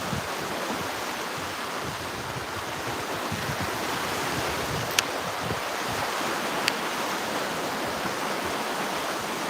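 Ocean waves break and wash along the shore in a continuous loud roar, with wind gusting across the microphone and two faint sharp clicks partway through.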